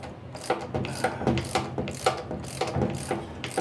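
A wrench ratchets while tightening a nut on a 1959 MotoMower Shark 5, with repeated short clicking bursts in an uneven rhythm, close and clear with no talk.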